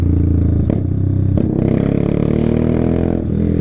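A 250cc motorcycle running at night, its engine note rising and dropping as it downshifts without the clutch, with sharp clunks between gears. The engine drones loud and close throughout.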